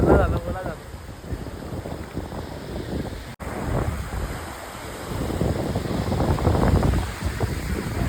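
Surf rolls in at Alibag beach, with waves swelling and washing close by under heavy wind buffeting on the microphone, and voices faintly present.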